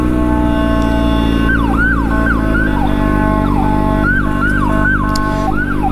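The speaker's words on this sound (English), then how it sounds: "ambulance." An ambulance siren wails loudly and steadily in rising and falling sweeps over rumbling traffic noise, close by and without any speech.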